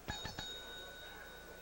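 A table service bell in an upscale restaurant rings three quick times in a row, bright metallic dings fading into a sustained hum, then quiet.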